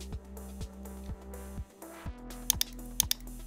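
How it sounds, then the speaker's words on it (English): Keystrokes on a computer keyboard tap out a command, a few soft clicks spread over a steady background hum, then two sharp key presses close together near the end. "Here you are required to type ipconfig and hit enter."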